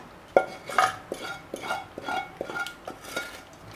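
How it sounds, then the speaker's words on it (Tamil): Sautéed brinjals stirred into masala in a pan, close clinks and scrapes of a spoon against metal in a loose, repeated rhythm, fairly quiet, with no talking. "இப்போ அந்த வதக்கின கத்திரிக்காயை சேர்த்து லைட்டாக கிண்டி விடுங்க"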